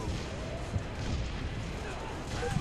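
A grenade detonates in the Halo video game, producing a loud, sustained rumbling roar that fills the whole moment while voices talk over it.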